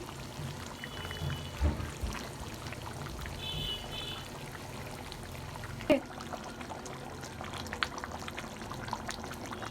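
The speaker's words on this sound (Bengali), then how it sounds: "একটু পানি দিয়ে দিব।" Water is poured into a large pot of chicken roast being cooked in bulk, about eight kilograms of chicken, giving a soft continuous pouring and sizzling wash with a brief louder splash midway.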